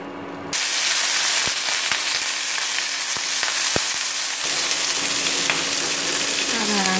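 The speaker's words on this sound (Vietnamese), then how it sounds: "Các bạn xào cháy cạnh nhé, để cho miếng thịt của chúng ta nó vàng cháy cạnh." Pork belly sizzles in a hot oiled pan while being stir-fried, a loud steady frying hiss that starts suddenly, with sharp clicks of stirring and a faint voice in the background.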